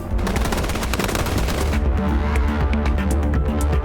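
Turret gunfire in the video game Snowbreak: a dense, continuous rapid-fire rattle of shots, loud and sustained, with a droning hum underneath.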